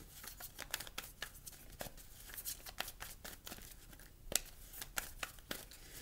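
Tarot cards shuffled by hand, with a run of crisp, quiet riffles and snaps at irregular intervals, close up and with no talking.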